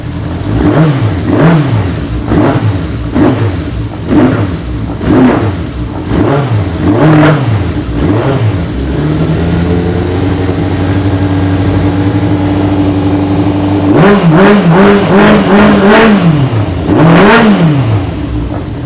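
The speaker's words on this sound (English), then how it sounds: "primarily work on the engine, we feel, as it's nice and crisp." Custom Slingshot-style car fitted with a Suzuki GSX-R motorcycle engine, revved hard in repeated sharp blips, then held at a steady high drone before another rapid burst of revs; loud and close, with no talk.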